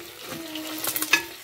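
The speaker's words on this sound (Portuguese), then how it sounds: "Tá fritando." Pork pieces fry in a pan, giving a soft steady sizzle with a few sharper crackles and spits toward the end, fairly close and heard without talk.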